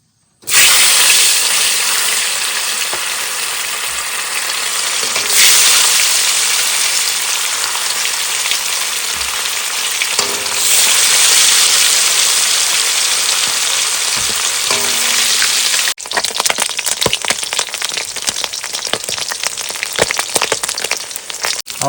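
Fish frying in hot mustard oil in a wok, a loud continuous crackling sizzle close up that carries on for over twenty seconds with occasional shifts and spatters.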